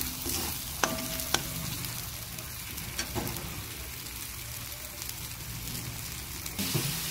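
Chicken masala sizzles softly in oil in a pan, a steady crackling hiss with a few scattered clinks and scrapes of the spoon stirring through it.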